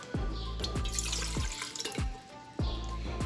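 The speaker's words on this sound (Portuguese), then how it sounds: "Primeiramente, vamos adicionar 200 ml de água à panela" Water runs from a tap into a cooking pot in a steady stream, with a few distinct splashing drips over a continuous close, moderately loud flow; no one talks.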